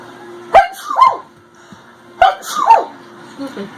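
Two small, sharp baby sneezes a couple of seconds apart, each a quick intake then burst, close up and clear, with faint fuss sounds afterward.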